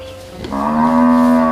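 A single cow on a cattle farm lets out one long, loud, close moo that swells in and holds steady, with no one talking over it.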